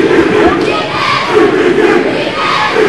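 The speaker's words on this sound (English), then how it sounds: "Linn-Mar crowd rising to the action" A Linn-Mar high school basketball crowd roars and cheers in a packed gym, a loud sustained wall of voices that swells and holds without letting up.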